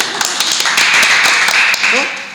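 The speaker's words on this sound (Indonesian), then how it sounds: "Tepuk tangan dulu" Audience at a community gathering gives a short burst of clapping, distinct taps building into a brief patter that fades, with voices heard over it.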